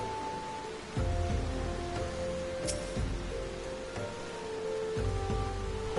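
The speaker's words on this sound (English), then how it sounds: "Oh, it's raining." Steady rain falls in the Final Fantasy XIV video game as a soft, even hiss of drops. Low background game ambience runs beneath it, and no one speaks.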